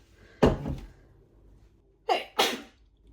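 Two sneezes: one sharp burst, then after a pause a quick double sneeze with a short intake before it, close and loud in a quiet room.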